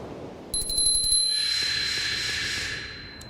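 A notification bell sound effect rings as a quick series of bright chimes, followed by a soft whooshing shimmer that fades away. No voices are present.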